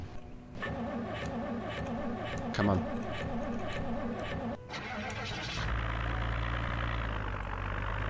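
A car engine in the zombie survival game Project Zomboid cranks and catches, then settles into a steady low idle, with a voice speaking briefly over the start.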